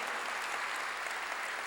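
A church congregation bursts into dense, sustained applause during a sermon, a steady close wash of clapping with no pauses.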